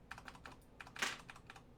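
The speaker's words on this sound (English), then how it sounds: "you're going to hear a lot of clicking and stuff. I've got a lot of keybinds that are set here" Computer keyboard keys clatter in quick irregular bursts during video editing with shortcut keybinds, close and fairly quiet, one louder clack standing out among the taps.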